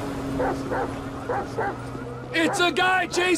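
A dog yips and barks in quick bursts near the end of a Grand Theft Auto V scene, following several short spoken lines with a low hum underneath.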